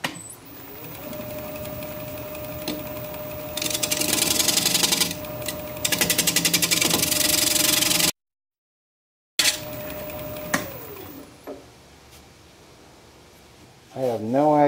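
Wood lathe turning a bowl on a plate with a gouge, a sustained whirring machine hum with a steady tone and gritty cutting bursts, briefly cutting out, then a voice talks over it near the end.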